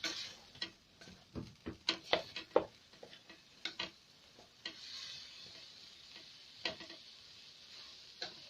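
Liver being stirred in a frying pan for Alexandrian-style liver, with a run of clattering stirring knocks over a low sizzle, busy at first and then easing into a steadier frying hiss with occasional taps.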